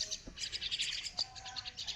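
Small birds chirp and tweet in quick, repeated bursts close by, a lively run of high calls with a couple of faint knocks in the background and no talking.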